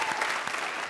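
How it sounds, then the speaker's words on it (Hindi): Studio audience applause on a comedy show, a brief dense burst of crowd clapping, loud and continuous. "तालियां।"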